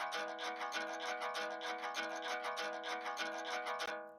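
Sample of a pom-pom toy maker processed through a resonator into a plucked, guitar-like tone, a fast steady stream of pitched ringing hits that stops abruptly at the end, fairly quiet and alone.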